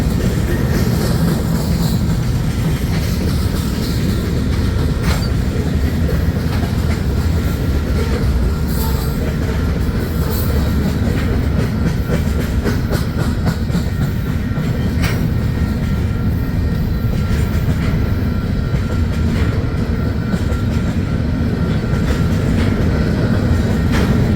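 A Union Pacific freight train rumbles past close by, loud and continuous, with heavy wheel noise, rattling cars and occasional metallic clicks and squeals.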